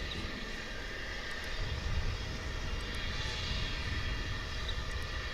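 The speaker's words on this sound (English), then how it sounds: "there's that MD-11, which we think may be going out" An MD-11 at DFW International Airport gives off a continuous, fairly faint engine rumble and hiss from a distance for a few seconds, with no voices.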